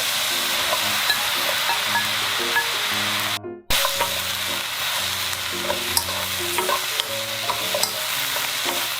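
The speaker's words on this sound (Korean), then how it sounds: "바늘 향이 어느 정도 올라오면 가지 잘라놓은 거 모두 다 넣으세요." Sliced eggplant stir-frying in a hot pan at close range, a loud continuous sizzle with the scrape and clatter of stirring throughout and a brief dip partway through, no talk.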